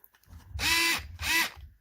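Fanttik NEX L1 PRO cordless electric screwdriver running on battery power in two short whirring bursts, each about half a second, close and fairly loud with a brief pause between.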